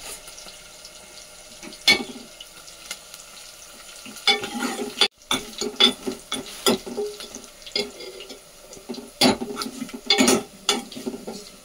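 Onions fry in a pan with a low background sizzle, broken by irregular clattering stirs and scrapes of a utensil against the pan that come in bursts throughout.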